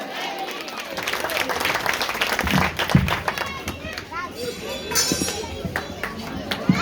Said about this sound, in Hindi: एक बार जोरदार ताली हो जाए रंजीत भाई के लिए।